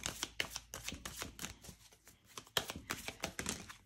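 Tarot cards being shuffled by hand, a quick run of crisp riffling snaps and flicks in uneven bursts, close and fairly quiet, with a short pause midway before the shuffling picks up again.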